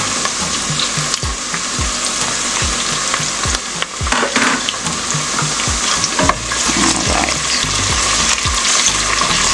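Loud, steady sizzling and crackling of locust beans frying in oil in a pot, with occasional stirring scrapes and clinks, and no voices.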